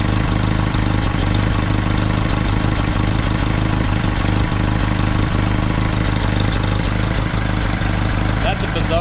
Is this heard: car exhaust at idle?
yes